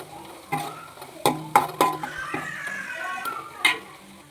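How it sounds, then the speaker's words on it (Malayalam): Green chilli, ginger and curry leaves frying in oil for pickle, with a soft steady sizzle broken by several sharp clinks of a utensil against the pan, close by and without talk. "പച്ചമുളകും ഇഞ്ചിയും കറിവേപ്പിലയൊക്കെ നല്ലതുപോലെ ഒന്ന് എണ്ണയ്ക്കകത്ത് മൂക്കണം."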